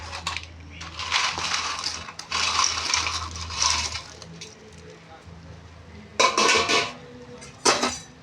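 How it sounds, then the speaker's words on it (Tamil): Fried bread pieces are stirred into milk in a pan for bread halwa, a spoon scraping and clattering against the metal in several bursts, with a voice talking between them. "இப்போ நம்ம பொரிச்சு வச்ச அந்த ப்ரெட்டை வந்து அதில் சேர்த்துடலாம்"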